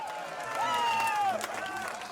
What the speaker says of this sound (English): The biggest cheer for the SPD and CDU losses.